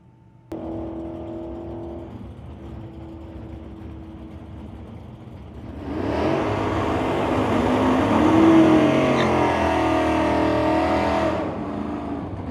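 At a drag strip a race car rolls up with a low engine idle, then swells into a loud, sustained revving roar that holds for several seconds before easing off. The car is close and no voices are heard.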